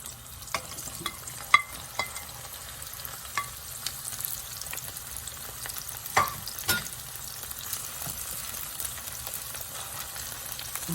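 Snow peas, mushrooms and scallion stir-frying in a pan, a steady soft sizzle with scattered clicks and scrapes of a utensil stirring, no talking.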